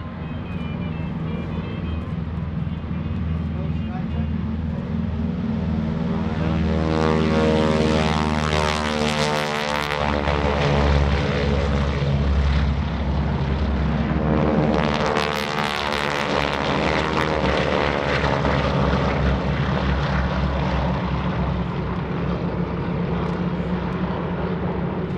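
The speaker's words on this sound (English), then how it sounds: "The 6 airplanes taken off in 2 elements of 3," GEICO Skytypers propeller airplanes fly overhead in formation at a World War II weekend show, a steady loud drone of piston engines swelling as two passes roar by, no voices.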